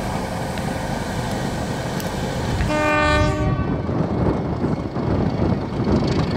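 English Electric diesel locomotives propel vintage goods wagons close by, a horn sounding partway through over the heavy rolling noise of wagons on the track.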